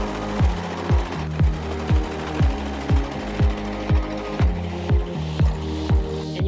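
A serger sewing machine runs steadily as it rounds off a balaclava seam in fabric, giving a close, loud mechanical whir with regular rhythmic thumps about twice a second, with no talking.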